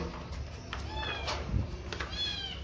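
A cat meows several times in short rising and falling calls, fairly close, over a faint background hum and a soft thud; no clear talking.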